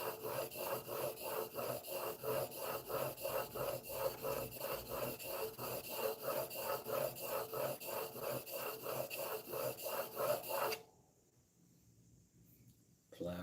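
Stanley No. 4 plane blade rubbed back and forth on an 8000 grit whetstone, a rhythmic scraping of evenly spaced quick strokes close up that stops abruptly near the end.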